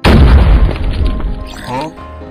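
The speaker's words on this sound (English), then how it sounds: "Grenade out." A grenade goes off in a mobile military shooter game, a loud heavy boom that hits at once and rolls off over about a second, followed by softer game sounds and effects.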